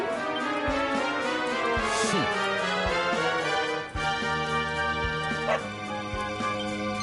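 A dog barks repeatedly in the video game Dragon Quest XI, giving a rapid series of yips and bow-wows over steady game music.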